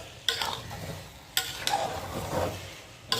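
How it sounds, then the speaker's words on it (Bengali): Pulao for biryani being stirred and fried in a pan: scraping spoon strokes against the pot over a steady soft sizzle, with a few sharper clinks, close and fairly loud. "পোলাও রান্না করছি"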